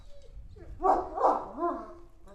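A dog barks three times in close succession, near and fairly loud, with whining tones, clear of any talk.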